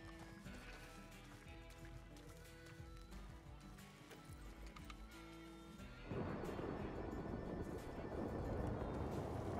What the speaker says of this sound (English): Why do I hear so many horses?